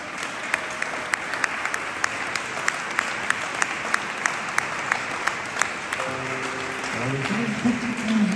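An audience applauds a choir at a concert in Fécamp, with scattered sharp claps over a steady crowd wash; soft musical tones start up near the end.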